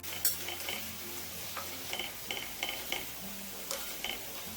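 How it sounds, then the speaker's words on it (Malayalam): Ginger garlic paste is stirred into a hot pan, a steady low sizzle of frying with soft intermittent scrapes and clinks of the spoon against the pan. "അതും കൂടി ഇതിലേക്ക് ഇട്ടിട്ട് ഇളക്കി കൊടുക്കാം."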